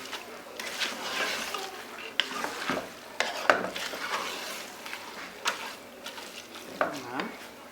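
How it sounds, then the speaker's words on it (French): Spiced rice with meat stirred firmly in a cooking pot, the spoon scraping and clattering in repeated strokes over a soft background sizzle, close and moderately loud throughout. "il faut maintenant mélanger vraiment"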